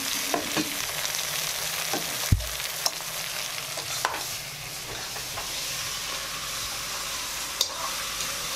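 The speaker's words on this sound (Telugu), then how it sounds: "ఇది బాగా దోరగా వేగాలన్నమాట." A masala paste of ground cashews, ginger, garlic and coriander fries in a pan with a constant close sizzle, broken by a few sharp spoon knocks and scrapes against the vessel.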